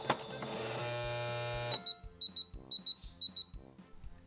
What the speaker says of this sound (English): My machine did not like the many layers of fabric I was making it go through.